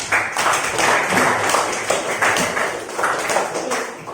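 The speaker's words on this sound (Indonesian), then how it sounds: "Bagus sekali, betul sekali, tepuk tangan lagi." Audience clapping in bursts during a talk on Islamic education, a dense patter of hands swelling and fading in several waves at moderate loudness.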